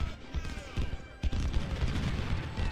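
Musket volleys and scattered shots from enemy troops rumble across a Civil War battlefield in Ultimate General: Civil War, a dense, continuous din with sharper booms breaking through.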